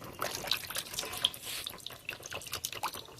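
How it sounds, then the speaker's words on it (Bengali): Adenium plant roots, freshly trimmed during repotting, are dipped and washed in a container of clean water, giving soft continuous sloshing with small drips and splashes, fairly quiet and close, with no talking. "আমি গাছটির শিকড়টা ভালোভাবে একটা পরিষ্কার জলে ডুবিয়ে ধুয়ে নেব"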